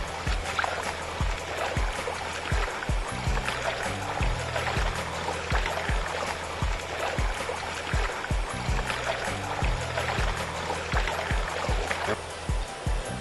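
Water and dirt slosh and swirl around the riffles of a plastic turbo gold pan in a steady rhythmic churning, with a low gurgling underneath and someone talking over it.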